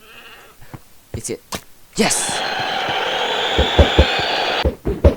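A goat horn in a Minecraft-style video game blares a sustained, wavering bleat-like call for about three seconds, preceded and followed by short bursts of people talking and exclaiming.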